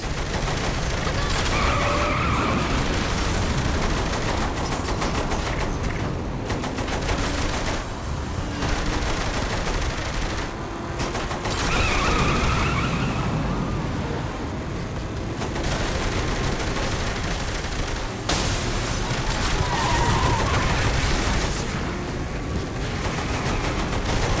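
Sustained gunfire bursts and skidding cars in Saints Row 3 Remastered, dense and loud throughout with rapid shots layered over engine and tire noise.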